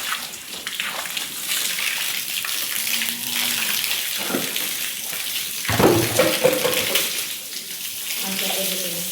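Water running to fill containers for cattle in a cowshed: a continuous rushing flow with splashing that grows fuller midway, close by, with a faint voice at times.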